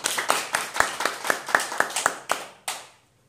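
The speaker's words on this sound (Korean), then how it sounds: "여기서 박수 치셔야 됩니다." A small lecture audience claps about ten times in a loose rhythm, sharp close hand claps that slow and then stop, leaving silence.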